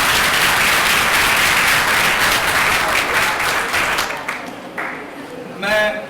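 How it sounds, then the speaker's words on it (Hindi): Loud, dense audience applause at a college workshop, sustained for about four seconds before tapering off, then a voice speaks briefly at the end. "दोस्तों तालियां बजनी चाहिए"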